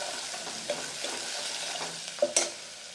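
Chana dal being stirred in a hot pan with green garlic, a steady soft scraping and sizzle running throughout, with a couple of sharper clinks of a spoon near the end.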